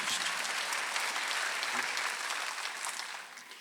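A church congregation at a Sunday worship service claps together, a short burst of steady, moderately distant applause that tapers slightly at the end.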